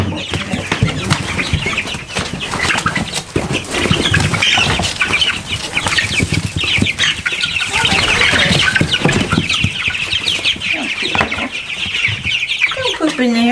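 Young chickens on a modern homestead cluck and chirp busily while wings flap in repeated bursts, a dense, close, continuous flurry of small bird noises with occasional louder flutters.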